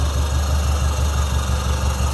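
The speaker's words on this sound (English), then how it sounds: "Nice running flatty." A 1950 Mercury Monterey flathead engine with a tri-power carburetor setup idles smoothly and steadily, its deep, even rumble close and loud with a fine pulsing throb and no talk.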